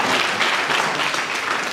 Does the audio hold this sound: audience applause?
yes